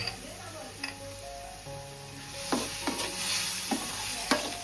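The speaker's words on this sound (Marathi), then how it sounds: "फ्राय केलेले काजू मस्त" Cashews frying in a pan: a light sizzle broken by sharp spoon-against-pan clinks and scrapes at irregular intervals, with faint kitchen hum in the background and no clear speech.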